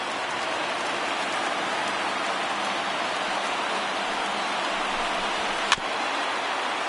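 A baseball stadium crowd of nearly 50,000 in Arlington on its feet, a broad sustained wash of cheering noise with a single sharp bang near the end.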